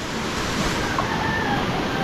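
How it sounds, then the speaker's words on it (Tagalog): Roaring floodwater where two rivers merge, a dense, steady rush of churning water, loud and continuous throughout with no pauses. "Dalawang ilog yung nag-sanib puwersa dyan"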